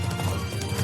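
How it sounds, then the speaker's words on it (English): Horse hooves clip-clopping in an April Fools ad for a Roach horse controller, a brief steady patter of hoofbeats with a faint whinny-like tone beneath. "So that's the Roach controller horse"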